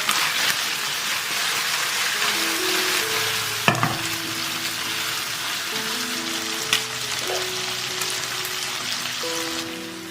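Garlic and fermented black beans stir-fry in hot oil with a steady, close sizzle. A spatula scrapes and clinks now and then, and no one speaks.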